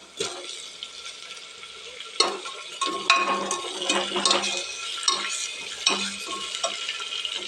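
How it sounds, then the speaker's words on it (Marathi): Chillies and onion fry in a pan while a spoon stirs them, giving a close sizzle broken by scraping clinks of utensil on metal, with no voice over it. "हे हलवून घेऊया एकसारखं छान असं मिरची आणि कांदा आपण भाजून घेऊया"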